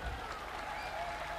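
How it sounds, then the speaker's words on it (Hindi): A large crowd at a political rally in the midday heat keeps up steady applause, a dense continuous patter of clapping at moderate distance with a voice faintly underneath. "इतनी गर्मी में आप इतने जोश का मुजाहरा कर रहे हैं, इतनी तालियां बजा रहे हैं"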